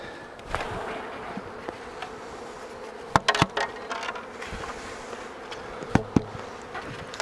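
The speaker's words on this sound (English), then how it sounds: "So again, we're going to tap the bees out here." Honey bees are tapped out of a nucleus colony into a hive: a dense, continuous buzz of many bees close up, punctuated by a few sharp knocks against the wooden box.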